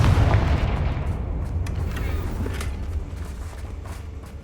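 Confringo fire spell explosion in Hogwarts Legacy, a heavy low boom at the start that rumbles and fades out over several seconds with scattered crackles.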